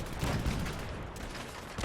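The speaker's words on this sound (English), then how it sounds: "this shit's got cannons!" Ship cannons fire a broadside in the Fallout 4 video game, a dense, continuous roar of overlapping booming shots that sounds like a fusillade.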